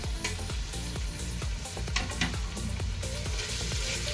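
Mint leaves fry in a biryani pan with a loud, dense sizzle and a steady run of rhythmic scraping stirs, close up.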